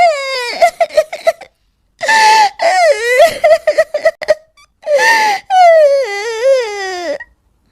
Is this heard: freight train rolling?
no